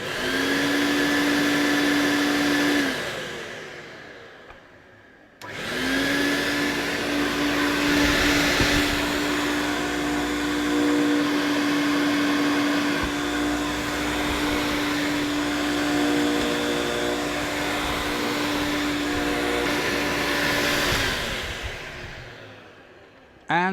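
An Electrolux Z1010 Twin Turbo vacuum cleaner switches on with a rising whine, runs as a steady loud motor roar, cuts off briefly, then restarts and runs on before winding down near the end.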